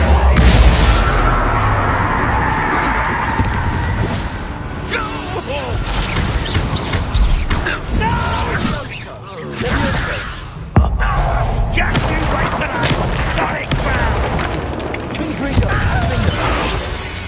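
Confringo spell explosion in a wizard video game, heavy booms and mechanical creaking thuds layered under continuous talking, loud and dense throughout with a sharp hit near the middle.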